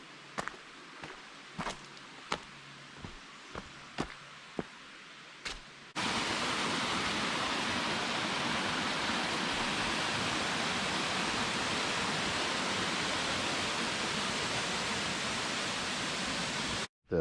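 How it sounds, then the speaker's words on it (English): Steady, loud rushing of a waterfall fills most of the clip after a few seconds of quieter sound with soft intermittent thumps, like footsteps on a hiking trail. "This waterfall coming down through here is just so beautiful."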